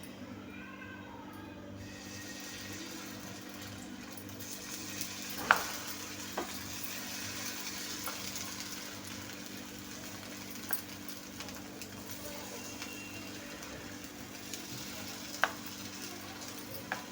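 Appe batter spooned a little at a time into an oiled appe pan over a low gas flame sizzles in a steady, close frying hiss, with faint clicks and stirring touches and no talking.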